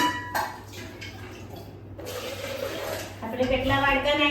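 Water poured by the bowlful into a large pressure cooker holding dal and rice for khichdi, a few splashy pours and brief clatter of the bowl, with people talking over it.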